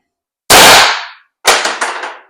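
Two loud, close airsoft shots from an X.68 running on HPA, each a sharp crack with a brief decaying tail, the second followed by a few quick rattling echoes.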